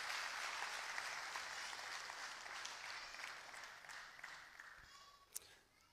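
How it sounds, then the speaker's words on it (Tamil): Applause from an audience for the children who hosted the stage at a Tamil devotional gathering, a steady broadband clatter of many hands that holds for several seconds and then fades, with one sharp clap standing out near the end. "இந்த பிள்ளைகளுக்கு ஒரு முறை கரவொலி எழுப்பி"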